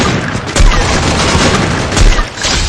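Gunfire in a video game: a dense, loud, close volley of shots with heavy low booms at a couple of points, continuous for nearly three seconds.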